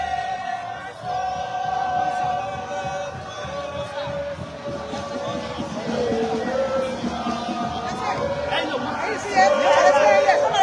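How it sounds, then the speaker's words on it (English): Large crowd at an anti-drug march in Liberia, a dense babble of chanting and shouting voices with shifting tones, loud and continuous, swelling louder near the end. "Another huge crowd here."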